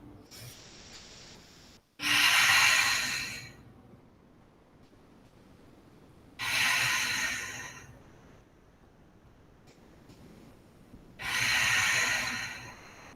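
Deep breathing during a yoga session, three slow, loud, airy breaths, each lasting about one to two seconds, heard close with quiet pauses between them and no talk.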